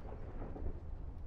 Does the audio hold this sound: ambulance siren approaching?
no